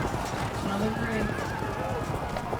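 A horse whinnies clearly in the Field of Glory 2 strategy game, a rising and falling neigh over a dense battle soundscape with hoofbeats.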